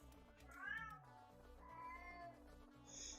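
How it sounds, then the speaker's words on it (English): Ship's cat from a space video game voice pack, meowing in a few soft drawn-out mews, close and fairly quiet with no talk over it. "That's the ship's cat."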